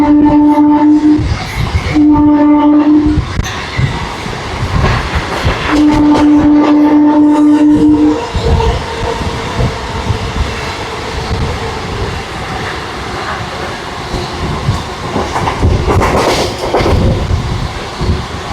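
A Rajahmundry to Vijayawada MEMU electric passenger train runs loud and steady, with several long blasts of its horn in the first eight seconds over continuous rumbling and rattling wheel noise.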